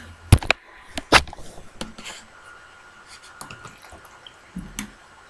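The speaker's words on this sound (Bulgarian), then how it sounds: "Малко вода слагате." Water pours and splashes into a glass in a few sharp bursts, followed by quieter trickling and small drips and clinks, heard up close and alone.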